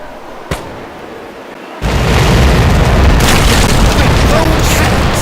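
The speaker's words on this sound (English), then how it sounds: "Port, fire!" A broadside of ship cannons in Commander: Conquest of the Americas: a small click, then an abrupt loud boom that rolls into a sustained, dense thunder of overlapping shots lasting several seconds.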